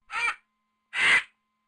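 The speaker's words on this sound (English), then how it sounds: "Vulture." A large bird, given as a vulture, lets out two harsh raspy caws about a second apart, fairly close and alone.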